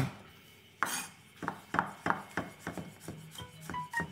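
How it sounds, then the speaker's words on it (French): Garlic is coarsely chopped with a knife on a board: a run of crisp, close knocks, irregular at first, then quickening into a steady rhythm with the occasional scrape of the blade. "Je hache l'ail, voilà, c'est grossièrement"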